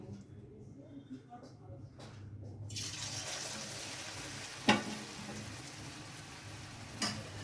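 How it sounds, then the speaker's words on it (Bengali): Chow mein hits hot oil over a low flame, and a broad, steady sizzle rises out of near silence and carries on with a couple of brief spits, while a voice talks. "আঁচটা আমি কমিয়ে দিয়েছি, হালকা আঁচে আমি এগুলো ভেজে নেব"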